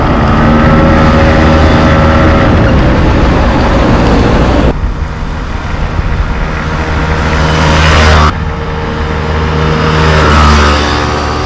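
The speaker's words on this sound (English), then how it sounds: "but it is running. It's a very odd little bike." A small, odd Honda Stream motorbike engine runs steadily and loudly up close, a continuous droning idle with slight shifts in pitch and no talk over it.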